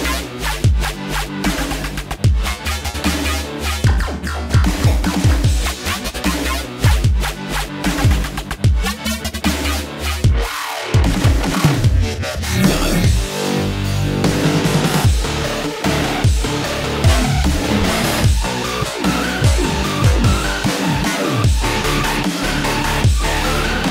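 The second drop of a future punk electronic bass track, dense, loud and continuous, with heavy pulsing bass, distorted synths and steady driving percussion throughout.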